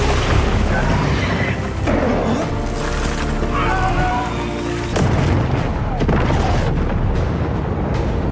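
Loud film explosions and booms from a Venom movie scene, heavy rumbling blasts with sharp impacts around five seconds, layered under a dense action soundtrack and a narrating voice.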